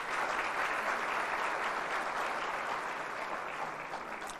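An audience at a business summit in Nairobi claps steadily and fairly loudly, a dense sustained round of applause that tapers slightly near the end, with no talking.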